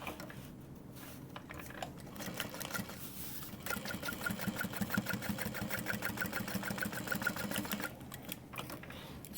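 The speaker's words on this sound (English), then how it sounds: "then we'll open that up and top stitch" A sewing machine top stitches fabric in a steady, rapid mechanical whir with a fine rhythmic pulse. It starts after a few seconds of quieter handling and runs close and clear until near the end.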